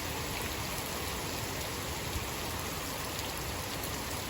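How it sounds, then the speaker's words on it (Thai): Steady out-of-season February rain pouring down outdoors around a house, a dense unbroken hiss of drops close by with no pauses or voices. "ฝนตกแบบนี้"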